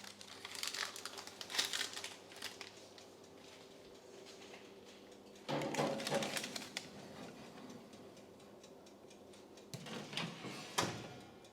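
Parchment paper crinkles and rustles as a grain-free keto loaf is lifted out of an oven, in irregular close bursts of crackling with handling clatter and pauses between them.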